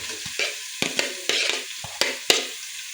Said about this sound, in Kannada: ಉಳ್ಳಾಗಡ್ಡಿಯನ್ನು ಬ್ರೌನ್ ಕಲರ್ ಆಗಿ ಫ್ರೈ ಮಾಡಿ